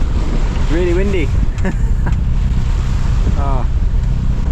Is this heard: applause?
no